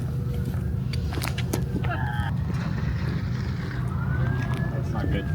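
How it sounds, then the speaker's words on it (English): Emergency vehicle sirens wail over a steady road and engine rumble during a long drive, a rising tone drifting in and out among other traffic sounds while people talk nearby. "Sirens."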